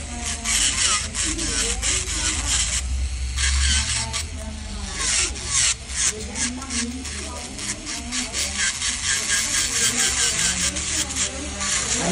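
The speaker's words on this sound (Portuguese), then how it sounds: "vamos fazer toda a remoção das células mortas com a broca de cerâmica" A ceramic drill bit grinds dead skin off toenails, a continuous rasping, whirring scrape up close with small shifts in pitch and pressure, and a voice talking over it at times.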